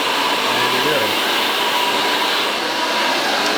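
A hair dryer blows steadily at a barber shop while styling a pompadour haircut, a continuous loud airy whoosh filling the whole stretch.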